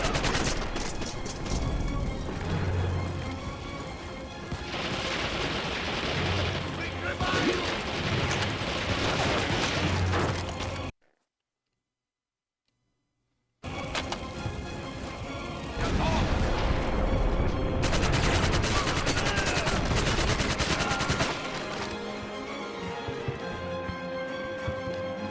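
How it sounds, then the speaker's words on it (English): A PPSh submachine gun fires in the Medal of Honor: European Assault battle of Stalingrad, with dense loud bursts of rapid gunfire and battlefield clatter, broken by a couple of seconds of silence and then resuming intensely. "GPSH, probably the best submachine gun in the game."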